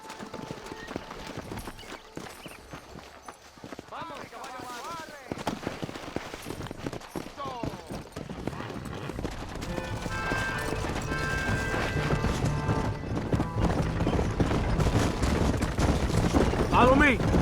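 Horse hooves clip-clop in Red Dead Redemption, a rhythmic clatter of riding in a Mexican army escort heading to Chuparosa, with game characters talking over it and a swelling musical score building underneath toward the end.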